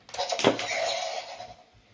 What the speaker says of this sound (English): the trigger down here is how you're going to launch the projectile